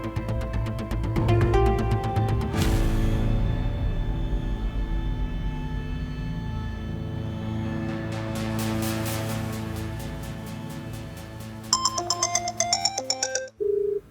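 A phone ringtone plays a bright, repeating electronic melody, loud and close, looping for several seconds before cutting off.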